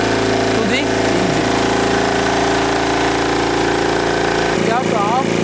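A CLM diesel engine idling steadily, loud and continuous, with someone talking over it throughout.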